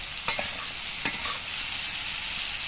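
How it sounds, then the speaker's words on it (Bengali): Spices with turmeric frying in a pan for a hilsa curry give a steady, close sizzle, with a couple of soft scraping stir strokes rising briefly above the hiss. "এবার একটু নেড়ে চেড়ে কষিয়ে নেব"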